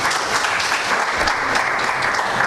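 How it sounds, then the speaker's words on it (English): Steady audience applause at a news event announcing a knockout tournament's cash prize, dense and even throughout, loud and close. "Nobody clapping?"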